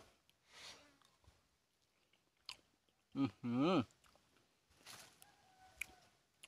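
Close, soft biting and chewing of hot khai pam, a northern Thai grilled egg dish, in quiet intermittent bursts, with a short vocal exclamation partway through.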